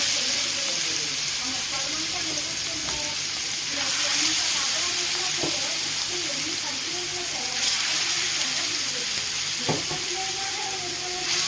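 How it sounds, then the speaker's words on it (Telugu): Vanjaram fish deep frying in hot oil, making a loud, continuous close-up hiss and sizzle with occasional sharp crackles, while a voice talks faintly underneath. "ఇప్పుడు ఆయిల్ పెన్నం పెట్టుకొని ఆయిల్ని డీప్ ఫ్రై చేసుకోవాలండి"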